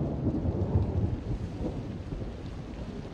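A thunderstorm rolls on, low rumbling thunder over a steady wash of heavy rain, loud and close with no voices.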